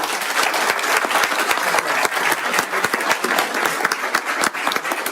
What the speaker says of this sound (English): And so, a big round of applause.